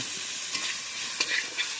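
Chicken sizzles in a pan with a steady hiss, broken by a few scraping stirs, close and fairly loud, in a village setting.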